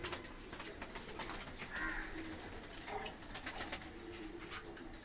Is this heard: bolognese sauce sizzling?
no